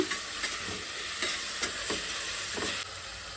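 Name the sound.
coriander and mint being stir-fried in oil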